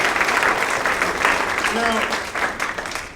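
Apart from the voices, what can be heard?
comedy club audience applause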